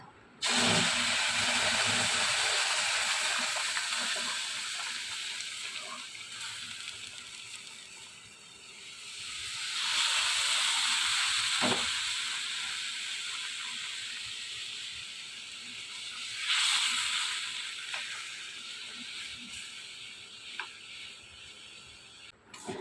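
Milk is poured into semolina roasting in a pan for payesh, giving a loud, long hissing sizzle that gradually fades, then swells again in two bursts as stirring continues.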